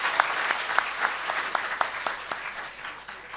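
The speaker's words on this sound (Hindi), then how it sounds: "बहुत अच्छी तालियां बजनी चाहिए" Applause from an audience at a gathering, a moderate crowd clapping steadily with several sharper individual claps standing out, fading slightly toward the end.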